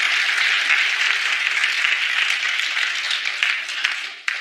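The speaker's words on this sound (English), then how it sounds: "Clap if you know what I'm saying." An audience claps together, a continuous wash of many hands that holds fairly loud and steady, then thins and trails off with a few scattered claps near the end.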